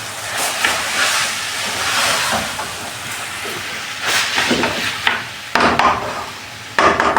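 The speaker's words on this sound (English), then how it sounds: "We can say for a fact right now we are just cooking the spices." Curry powder and spices cook in a hot pan, a steady close hiss and sizzle that swells and eases, broken near the end by a few sharp clatters, with no talking.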